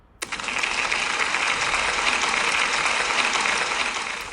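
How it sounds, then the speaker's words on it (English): Audience applause at a school celebration assembly, bursting in suddenly after a brief moment and continuing as a loud, dense, even clatter of many hands to the end. "can we give Awesome a big round of applause, please?"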